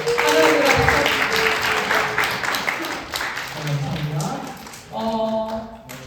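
A church youth retreat congregation applauding the band, uneven clapping with taps and thumps while people talk over it.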